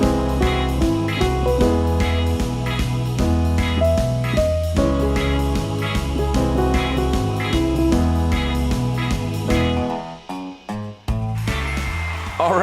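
A piano plays the chorus of a song in an intermediate arrangement, with a steady, busy rhythm of chords and melody up close that thins into a few separate chords near the end.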